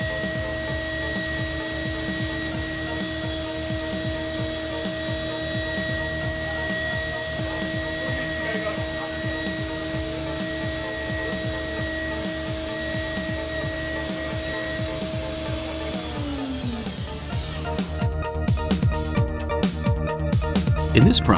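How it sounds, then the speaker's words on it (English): NTK solid ceramic end mill machining a part at 2000 SFM gives off a steady, high machine whine over a low hum for a long stretch, then winds down into rougher clattering noise near the end. "This is NTK ceramic end mill machining the same material at 2000 SFM."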